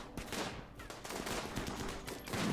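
Gunfire in the video game RimWorld, rapid overlapping shots forming a continuous fusillade, fairly faint and with no talk over it.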